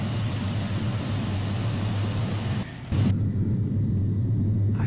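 Embraer E-Jet in a flight simulator game applying reverse thrust on landing with spoilers out, a loud steady low rumble with a brief dip in the middle before it resumes, no voices.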